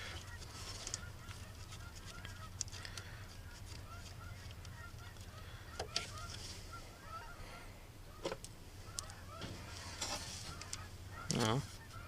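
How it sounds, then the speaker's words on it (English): Geese honk in the distance over steady low background noise, with a louder burst of honking near the end. "Geese are back."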